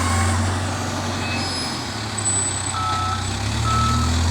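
A backhoe clearing a road after Typhoon Khristine runs with a loud, steady heavy-engine drone, while intermittent tonal beeps and whines sound over the top.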